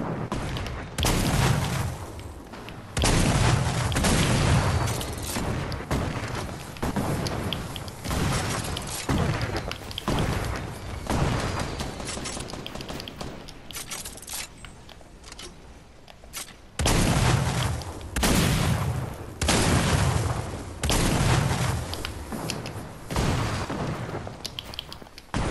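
Repeated grenade explosions in a video game match, loud broadband booms in clusters with dense crackling debris between them, continuing for the whole stretch with short quieter gaps.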